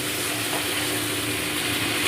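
Cumin, five-spice and ground spice paste fry in hot oil, a dense close continuous sizzle with no talk.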